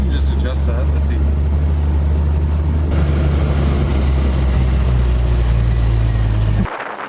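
A Jeep engine runs steadily while driving slowly around the block, with a loud, continuous low rumble that cuts off sharply near the end.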